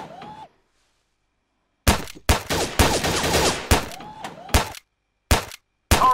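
Gunfire in the VR shooting game Gun Club VR: several sharp, loud bursts and cracks in quick clusters, separated by short silent gaps, with game voice lines and effects mixed in.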